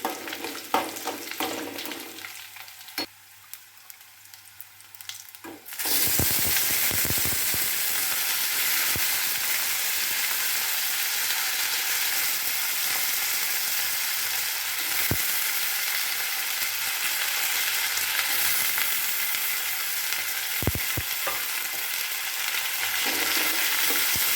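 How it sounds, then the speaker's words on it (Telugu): Okra and potato pieces fry in a pan: a quieter stretch with a few clinks, then a loud, steady sizzle takes over from about six seconds and continues to the end. "బంగాళదుంప స్మాల్ పీసెస్ కట్ చేసుకున్నవి వేసుకొని ఫ్రై చేసుకోవాలి"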